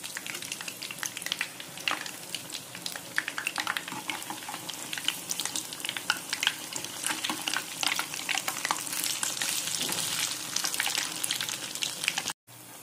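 Urad dal vada batter made with raw rice, dropped into hot oil and frying with a steady, dense crackling sizzle that holds nearly to the end before a brief cut.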